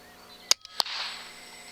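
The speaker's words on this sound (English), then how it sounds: "That is the sound of the pellet hitting the skull." A .25 or .30 FX Impact M3 air rifle pellet striking a pest animal's skull on a UK cattle farm, a sharp faint crack followed a split second later by a second snap and a brief hiss.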